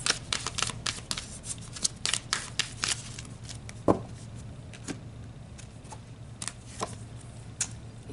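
Tarot cards are shuffled and drawn, giving a run of soft riffling flicks and light papery slaps at an uneven pace, close and quiet with no talking.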